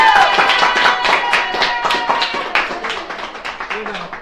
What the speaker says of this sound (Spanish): Con nuestro público de esta noche también un aplauso a todos.